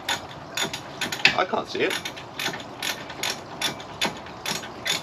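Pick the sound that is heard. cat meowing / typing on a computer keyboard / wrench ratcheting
wrench ratcheting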